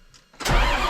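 A tractor engine on a farm turns over and catches, a brief quiet crank giving way to a loud, close, steady rumble that carries on to the end.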